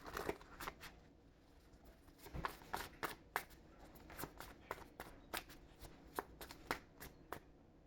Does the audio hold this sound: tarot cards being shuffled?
yes